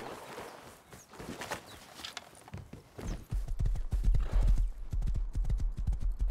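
Hooves clip-clop rapidly in a steady galloping rhythm in the video game Rust, growing louder and heavier midway, with faint bird chirps in the background.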